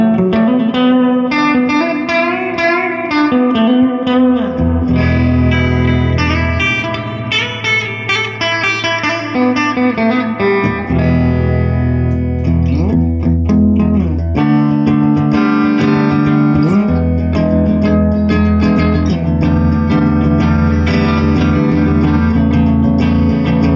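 A Crate GX212 guitar amplifier on a clean setting with reverb carries an electric guitar playing chords and single-note runs, bright ringing tones with a wash of reverb trailing behind each strum, steady and loud throughout.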